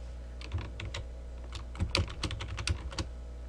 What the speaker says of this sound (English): I'll type in a new header for this data.